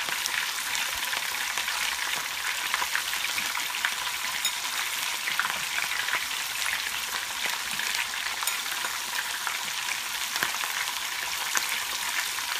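Thin strips of beef frying in a pan for Mongolian beef, a steady, close sizzle and crackle that runs without pause and with no talking.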